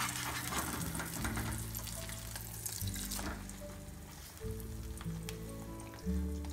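Rutir moglai, a roti cooked with egg, sizzling steadily in a frying pan, a continuous close crackle broken by a few soft scraping and handling sounds.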